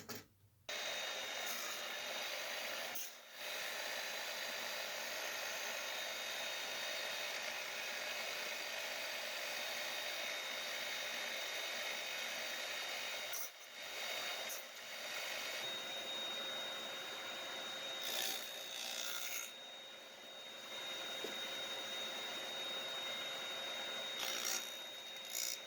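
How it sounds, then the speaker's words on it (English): A 1959 Craftsman Model 113 table saw cuts through wood with a continuous loud whirring, rasping drone, broken by a few brief dips as the blade load changes. "Now we're working at my 1959 Craftsman Model 113 table saw"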